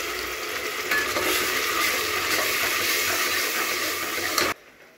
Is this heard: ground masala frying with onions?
yes